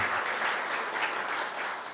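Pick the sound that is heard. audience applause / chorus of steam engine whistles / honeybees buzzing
audience applause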